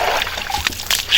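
A child dips into bathwater, setting off a short burst of splashing and sloshing with a few quick splatters and trickles, close and fairly loud, with a faint voice in the background.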